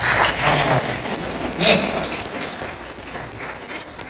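Crowd applause during a Hindi and Urdu sermon on who Jesus is, a steady rain-like clapping that swells and then gradually thins, with a voice speaking over it.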